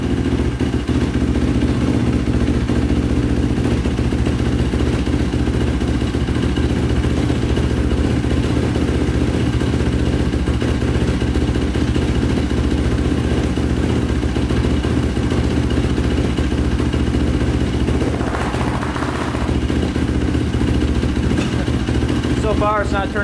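The rebuilt big-bore Yamaha YFZ450 ATV engine idles in a steady, loud, even drone that holds throughout without stalling, with occasional voices under it.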